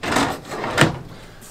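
A wooden drawer in the kitchen of a 2007 Keystone Laredo 29RL RV slides open and then shut, two short rubbing scrapes close by, loud and alone.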